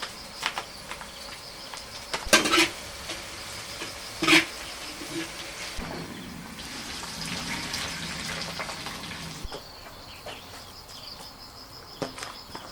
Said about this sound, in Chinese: 再来点油，放入干辣椒、花椒炒香，淋在菜上。